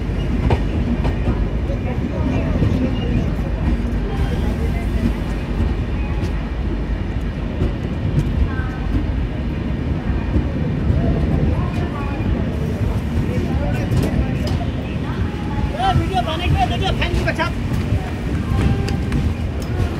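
The Vivek Express, a long train stopped at New Jalpaiguri station after the run from Dibrugarh, heard as a loud steady platform rumble with engine drone and clatter, with people talking throughout.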